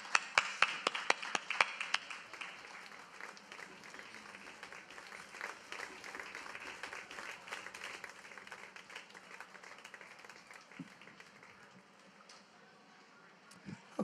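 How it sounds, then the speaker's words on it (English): An audience at the 2018 Pet Connections Expo claps, starting with loud, sharp claps and then fading into scattered, thinner applause over several seconds. "I'll give you a nice cheer here."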